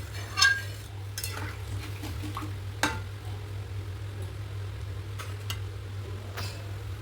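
A papaya and rohu fish curry is stirred in a pan, with a spoon scraping and clinking against the metal over a low steady hum and faint simmering.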